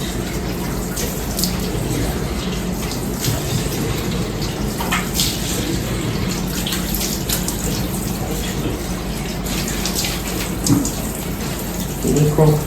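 Tap water runs steadily into a sink while a face is washed clean of dirt and sweat, a constant close splashing wash with small bursts of splashing and handling noises toward the end.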